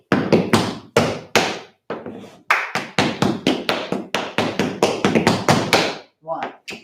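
Tap shoes strike a hard floor in quick, crisp bursts of scuffs, heel drops, toe taps, stamps and spanks during a tap class, close and loud with short pauses between the phrases.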